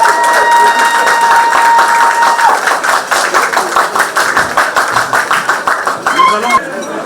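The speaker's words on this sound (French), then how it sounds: "Applaudissez pour le mari de Léchi" Wedding crowd applauding the groom, a dense wash of clapping that swells and rolls on for several seconds, with a sustained tone early on and a voice surfacing near the end.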